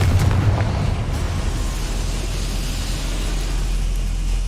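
The Confringo spell in Hogwarts Legacy lets out a loud, close explosive burst followed by a deep rumbling boom that fades slowly over several seconds.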